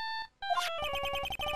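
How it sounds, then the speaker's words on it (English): Phone ringtone in the video game Phoenix Wright: Justice For All, bright electronic beeping tones that start in a steady pattern, briefly break, then resume as a rapid repeating melodic chirp, loud and alone. "I bet it was this ringtone that caused it"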